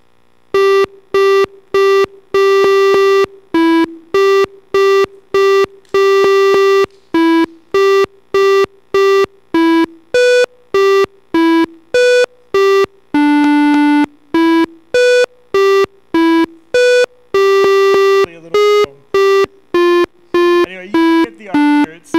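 The Darth Vader theme plays as a sequence of computer-generated square-wave beeps from a WAV file produced by PHP code, each note clear, loud and separated by brief gaps in a steady marching rhythm.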